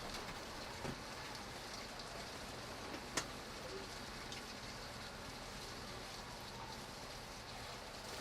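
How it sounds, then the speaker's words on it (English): Steady, dense hiss of heavy rain pouring down continuously, with an occasional faint tap standing out against the wash of noise. "It's in torrential downpour"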